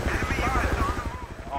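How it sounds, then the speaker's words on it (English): Battlefield 2 helicopter at the Kubra Dam map, a steady rhythmic rotor thump close by, with players talking over it. "There's a chopper in the base, if somebody wants it."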